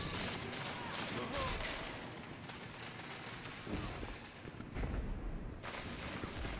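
Grenade blasts and heavy gunfire from a Destiny 2 match on Xbox One form a dense, continuous roar of bursts and booms, loud throughout with a couple of stronger swells.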